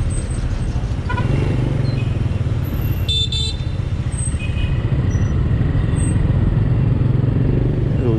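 Dense street traffic of motorbikes and cars in Ho Chi Minh City, a constant engine roar with a brief horn toot and a hiss of air brakes mid-way, busy and close.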